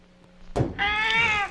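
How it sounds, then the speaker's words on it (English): A cat meows inside a Roblox game, a single drawn-out, clear meow after a brief thump, loud and close with no talking over it. "Oh, it's a cat."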